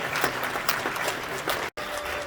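Audience applause after a film screening at a festival cinema, a dense steady clatter of many hands clapping at close range, with a brief dropout near the end and the clapping resuming.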